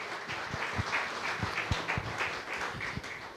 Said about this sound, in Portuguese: Pode soltar a Bíblia e aplaudir ao Senhor, por favor.